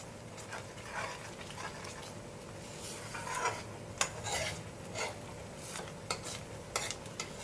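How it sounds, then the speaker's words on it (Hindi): A thick mango sweet mixture, made without ghee or oil, stirred continuously in a pan over a medium flame, with quiet scraping, a low bubbling bed and occasional sharp clicks of the spoon against the pan. "इस तरह से इसको लगातार चलाते हुए पकाएंगे।"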